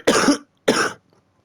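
Two harsh coughs from a man, about half a second apart, close and loud, then silence.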